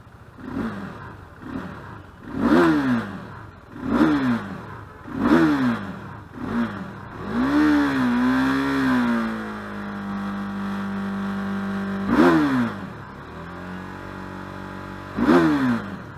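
A warmed-up sport motorcycle engine revs sharply again and again, each blip rising and falling quickly, then holds a steady idle between later throttle bursts, close and loud.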